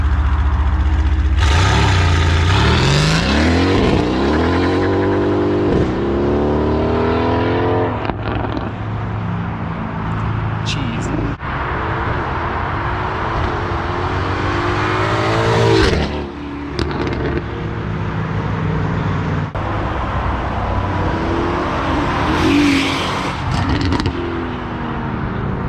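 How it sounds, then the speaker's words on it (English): A 2019 Mercedes C63 AMG, rebuilt after being wrecked, makes repeated drive-bys with its exhaust valves switched between open and closed, the engine revving and rising in pitch as it approaches and passes, loud and close. "some drive-bys with valves open and valves closed"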